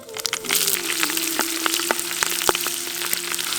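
Dried red and green chilies fry in hot oil for horse gram rice, a steady close sizzle with scattered crackles and pops throughout.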